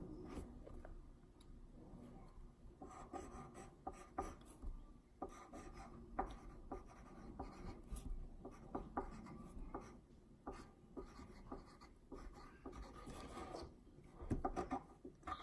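A pencil scratches across paper in short, irregular strokes and pauses, quiet and close, with faint rustles in between and no talking.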